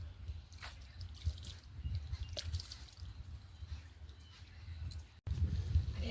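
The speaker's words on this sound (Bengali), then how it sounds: "তাই একটু জাপ ধরাবার জন্য জল দিয়ে ভিজিয়ে নিচ্ছি" Water splashed and dribbled onto a clay stove to moisten the earthen surface, heard as soft irregular drips and trickles over low rumbling outdoor background, with a brief dropout near the end.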